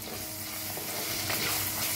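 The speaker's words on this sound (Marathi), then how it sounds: "आता बघा ह्याच्यात टाकूया अद्रक लसूणचं पेस्ट, त्याला बी मिक्स करून भाजून घेऊया।" Ginger garlic paste roasting in a pan, a steady close sizzle and frying hiss with light stirring scrapes throughout.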